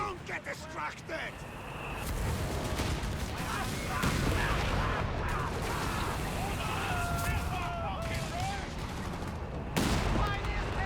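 Dense bursts of rifle and machine-gun fire in the World War II strategy game Company of Heroes 3, sustained and loud with overlapping shots and shouted voices throughout a battle.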